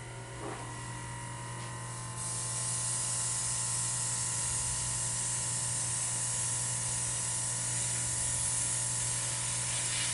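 An airbrush sprays paint onto a pet's coat, a steady close hiss that starts soft and strengthens after a couple of seconds, then continues evenly without pause.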